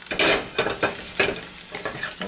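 A spatula scrapes and stirs sizzling food in a carbon steel pan, making several quick rhythmic scraping strokes over a light frying hiss, close and fairly quiet.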